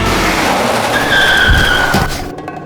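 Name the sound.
car tires skidding in a NESmaker video game car chase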